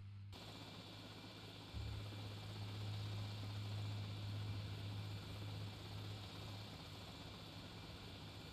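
A small RC toy helicopter in GTA Vice City buzzes steadily with a low droning hum, the motor tone thickening after a couple of seconds and holding continuous and close throughout, with no talking.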